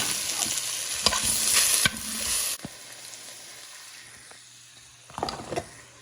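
Onion, ginger and garlic fry in a pan as they are stirred: a steady close sizzle with scraping stirs, loud at first, then a quieter, softer hiss, with a brief burst of stirring near the end.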